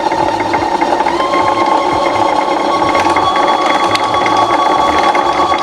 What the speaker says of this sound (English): you step on the foot pedal, and that is gonna make your bobbin start filling